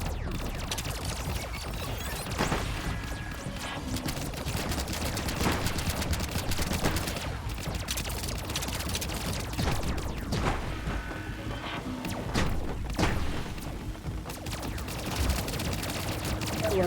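Repeated shotgun blasts and gunfire in a video game ring out over continuous game noise, with a few scattered shots and impacts.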